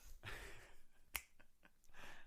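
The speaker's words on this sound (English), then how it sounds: "snap your fingers" A single crisp finger snap, loud and close, sounding once in the middle amid quiet room tone and faint breathy noise.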